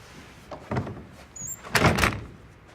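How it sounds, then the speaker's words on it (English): A sleeper sofa's bed mechanism is pulled open, giving two short bursts of clunking and sliding metal, the second louder and longer, with no voices. "The first step is to open the bed."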